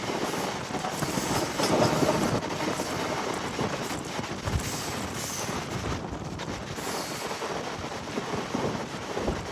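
A MEMU passenger train, number 67283 on the Bhimavaram–Nidadavolu line, runs into Vendra station, giving a low, continuous rolling rumble with faint rattles, heard fairly quietly from on board and without talk.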